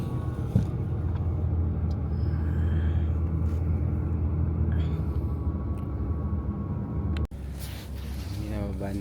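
Inside a moving sleeper bus leaving Tokyo, a steady low engine and road rumble continues throughout, broken by a single sharp clunk near the end.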